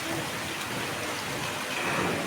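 Steady rain falling outdoors, a dense even patter of drops without pause, moderately loud and alone.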